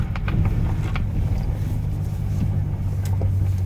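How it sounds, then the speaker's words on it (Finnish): A boat engine at full throttle drones in a steady, strained low roar that never lets up, with rushing wind and water noise layered over it. "Ei vittu se moottorille ottaa koville."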